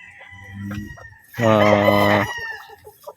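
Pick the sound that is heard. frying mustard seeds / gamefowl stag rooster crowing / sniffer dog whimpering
gamefowl stag rooster crowing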